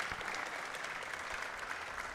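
Steady, dense applause from the crowd at a pool match at the WPA World Teams Championship, a continuous wash of clapping filling the hall, loud and even with no break.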